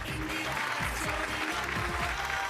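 Studio audience applause greeting a couple on an Indian TV couples show, a steady wash of clapping running the whole stretch with music and low tones underneath.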